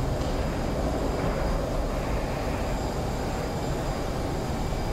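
A video game airplane engine roars continuously with a steady, droning, broad, rumbling noise and no pauses or voices.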